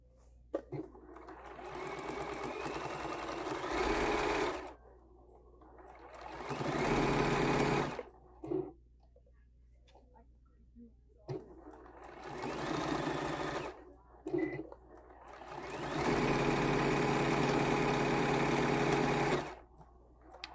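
A sewing machine stitches a quilt-as-you-go table runner in several long, steady runs of fast needle chatter lasting a few seconds each, separated by quiet pauses. A person talks softly during the pauses between runs.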